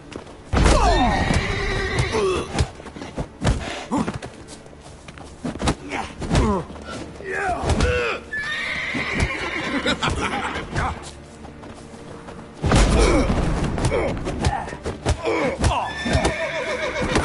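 Horses whinny and neigh repeatedly amid thudding hooves and clatter in a Witcher video game battle, loud and close, in a busy, chaotic scene with bursts of sound throughout.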